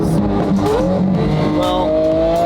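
A McLaren 720 GTR race car drives with its engine note climbing and shifting through gears, a loud close sustained roar that rises in pitch and drops again, with no talking.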